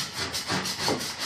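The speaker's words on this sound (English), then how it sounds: "I'm making sure I scrape it nice and clean" A putty knife scrapes wallpaper off a wall in a few quick, rasping strokes, close and moderately loud, with no speech.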